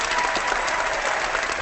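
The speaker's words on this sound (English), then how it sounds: "Big round of applause." A short burst of applause, a dense patter of many hands clapping at once, sounds steady and moderately loud for under two seconds.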